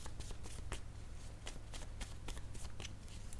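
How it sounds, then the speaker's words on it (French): Playing cards being handled and laid down on a table, a run of soft quick flicks and taps close by over a steady low hum, with no talking. "Je vais déposer une carte image sur stupide."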